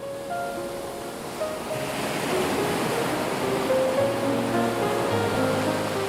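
Surf washing onto the shore at a base beach on Crete, a steady broadband roar of breaking waves that swells slightly louder midway and continues without pause, with no voices.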